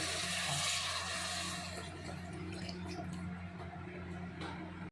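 Water pouring into a cooking pot holding sautéed onion, ginger and tomato in olive oil, a steady close rush of splashing that trails off and stops abruptly at the end.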